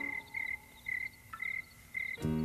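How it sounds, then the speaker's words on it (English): Frog croaking on a quiet evening: repeated short pulsing calls at a steady rhythm, moderately faint, before music swells in at the very end. "I hear a bullfrog"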